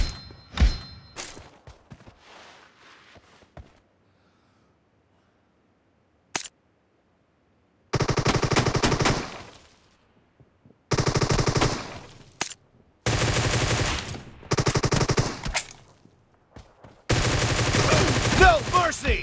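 Rapid machine gun fire from a shooter video game during a one-on-one match, coming in loud sustained bursts separated by short gaps of quiet.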